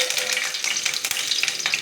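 Mustard seeds and dried red chillies sizzle and crackle in hot groundnut oil, a close, steady frying hiss with scattered sharp pops and spatters throughout, no voices.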